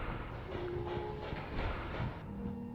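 The Vesper monorail train in the game OFF runs along with a faint, steady mechanical rumble and hum, continuous and unbroken throughout.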